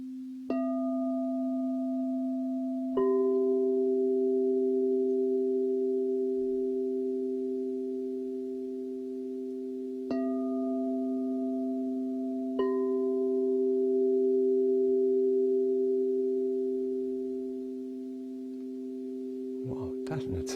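Two tuned instruments in a healing session are tapped, giving sustained pure tones a perfect fifth apart that ring and overlap, struck again around the middle, loud and steady with no talk.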